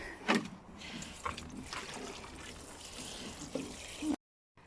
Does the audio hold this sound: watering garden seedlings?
yes